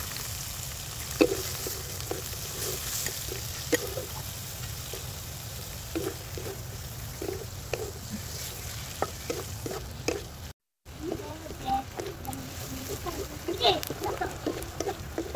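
Onion, spring onion leaves and green chilli fry in a pan over a steady sizzle, with repeated spatula scrapes and taps tapping out an uneven rhythm, close up.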